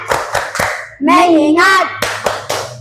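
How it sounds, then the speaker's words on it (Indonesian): A classroom of pupils claps a rhythmic focus-clap pattern, sharp group claps in quick sets before and after a spoken chant in the middle, loud and close. "Tepuk fokus."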